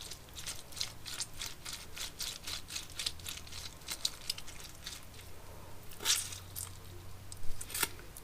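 Lemons being squeezed by hand through a strainer for juice, a series of soft, wet squishing and crackling squeezes in an irregular rhythm, close and fairly quiet, with no talking.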